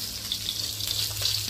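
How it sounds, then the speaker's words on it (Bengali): Fish fries in a pan with a steady, close hiss of sizzling oil, fairly even and without talk. "আর এদিকে আমি এই যে মাছ ভাজা শুরু করে দিয়েছি"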